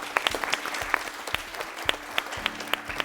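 A quiz show audience claps for a team after a round-three leaderboard update, a scattered burst of individual hand claps with uneven rhythm, moderately near and thin rather than a full roar.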